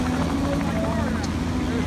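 A helicopter passes overhead with a loud, continuous rotor thrum and engine whine, its chopping pulse filling the short stretch while a voice talks over it.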